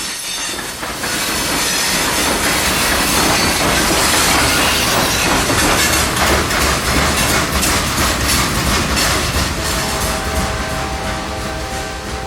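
A freight train rolls steadily past along the tracks at Sulphur Springs in Tampa, a loud, close, sustained rumble with rail noise and faint wheel squeal throughout.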